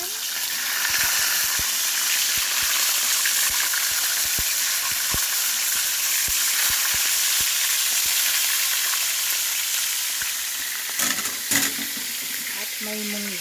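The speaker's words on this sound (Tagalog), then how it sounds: "nagpiprito ng lapu-lapo at ng" Lapu-lapu (grouper) fries in hot oil with a steady, close sizzle, punctuated by regular sharp crackles and pops, and a few brief clatters near the end.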